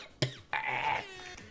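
A single sharp cough bursts out, followed by a drawn-out raspy throat sound and a few trailing fainter catches, close and alone.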